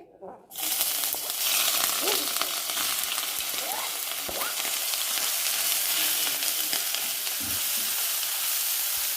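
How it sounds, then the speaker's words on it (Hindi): Crushed ginger and garlic fry in four tablespoons of oil in a pan, a loud, steady hiss of sizzling that fills the clip after a brief quiet start, with a few faint clinks of stirring. "अब मैं इसमें जिंजर और गार्लिक डाल दूंगी जो मैंने क्रश किए थे।"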